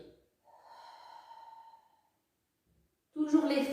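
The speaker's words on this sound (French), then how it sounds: "j'inspire et j'expire, je m'étire" Slow breathing during a Pilates exercise: a long, soft, airy breath, a pause of silence, then a louder, closer exhale or sniff at the end.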